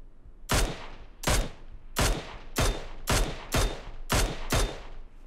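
Sniper rifle fire in PUBG Mobile, eight loud sharp shots spaced roughly every half to three-quarters of a second, each with a long decaying tail, no talking.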